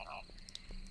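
Frog croaking inside the video game Loveland, a short, faint croak layered over a busy game soundscape with brief chirpy accents and no talk.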